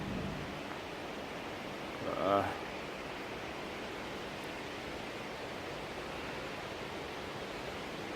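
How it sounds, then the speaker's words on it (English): A small waterfall in a London square at night gives a steady, broad hiss of falling water that fills the whole span evenly. A brief faint voice rises partway through. "Just go and look at the little waterfall area."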